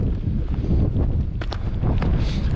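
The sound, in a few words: wind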